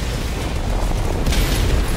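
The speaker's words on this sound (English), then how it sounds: "the fucking cannon is shooting at me" Enemy cannon fire in Helldivers 2, loud booming explosions rumbling one after another in a dense, continuous barrage, close and heavy with a deep low-end roar.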